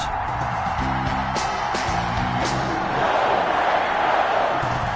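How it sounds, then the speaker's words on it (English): Stadium crowd in an NFL video game featuring the Green Bay Packers, a loud sustained roar of cheering with whoops and shouts rising in intensity, as players line up for the kickoff. "This crowd is ready as their guys get set."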